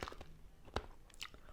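Someone bites into a crunchy, sour American snack, giving a faint close-up crunch with a sharp bite snap and soft chewing in a quiet room.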